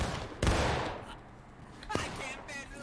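Two sharp musket gunshots a second and a half apart in a Civil War battle video game, with a distant crackle of shots and voices in the background.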